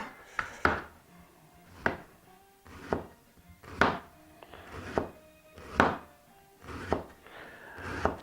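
A kitchen knife slices a red onion into thin slices on a cutting board, about eight crisp, evenly spaced cuts that land with a soft thunk on the board.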